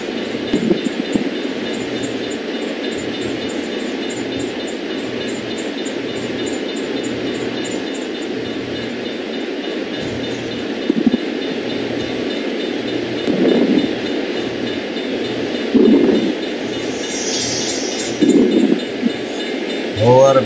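A BNSF hopper freight train in the Run 8 train simulator rolls past at speed, a steady rumbling roar with rhythmic clickety-clack of wheels over rail joints and a brief higher squeal near the end.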